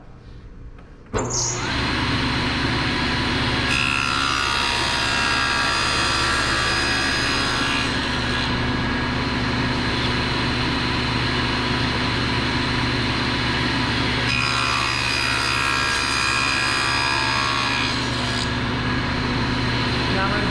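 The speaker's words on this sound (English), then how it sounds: "I'm going to wait for this to get up to full RPM, and then I'm going to go ahead and make my cut" A power saw spun up to full speed for cutting wood pieces for an epoxy table frame, a loud continuous motor whine starting abruptly and holding steady, with subtle shifts in pitch as the blade bites.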